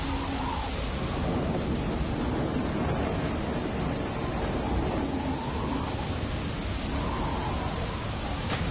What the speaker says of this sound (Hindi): और इस तूफानी बारिश में